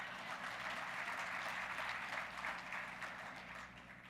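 Steady audience applause fills a hall at a Lions Club of Latur City poetry gathering with invited Maharashtra poets, a dense, even patter of many hands that holds throughout and eases slightly toward the end.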